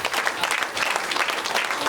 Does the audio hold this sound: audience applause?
yes